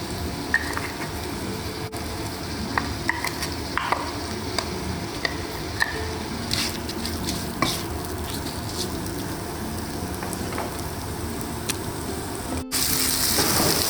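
Onion paste frying in oil in a kadai for a slow-cooked lamb and potato curry, a steady close sizzle with scattered scraping stirs and small clinks throughout.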